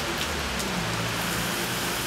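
Steady, dense rain falls close by, a continuous hiss of drops on surfaces with no pauses and no voices.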